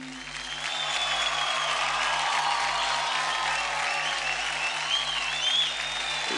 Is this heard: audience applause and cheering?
yes